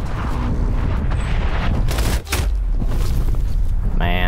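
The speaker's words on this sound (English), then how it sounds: "incoming artillery" Artillery strike explosions crash in a Call of Duty Cold War match, a dense, loud barrage of booms and gunfire with one brief dip midway and a whining tone near the end.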